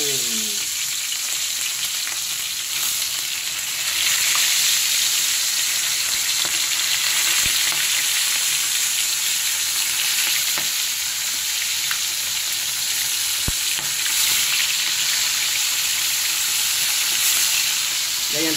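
Oil frying hard in a hot pan while cooking a budget miswa dish: a loud, steady, dense sizzle runs throughout with occasional stirring knocks.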